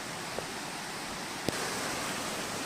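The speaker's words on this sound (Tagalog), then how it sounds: "At ito na ang falls" Waterfall giving a steady, full rush of falling water that holds evenly throughout, fairly close, with one brief knock partway through and no voices.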